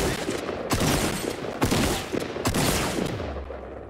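Gunfire in Fortnite arrives as a rapid series of four or five loud, sharp shots roughly evenly spaced, each with a short echoing tail over busy game ambience.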